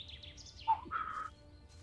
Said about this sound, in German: diesen Sound an Vogel Philipp schicken. Der mir sagen kann, was er für ein Vogel ist